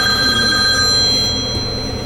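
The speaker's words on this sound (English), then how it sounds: "The flipping phone today going ringing off the hook" An electronic telephone ring trills steadily at moderate volume, with a low background hum beneath it and no voices.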